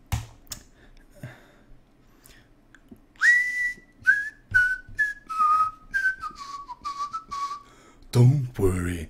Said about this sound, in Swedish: jag börjar vissla på